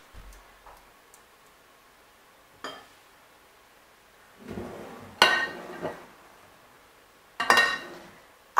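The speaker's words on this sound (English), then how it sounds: "Mix everything up." Pancake batter ingredients mixed in a bowl: sparse clinks and taps of a utensil against the bowl, growing into a few louder scraping bursts near the end, with long quiet gaps between.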